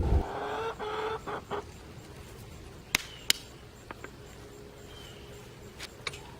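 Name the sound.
chicken clucking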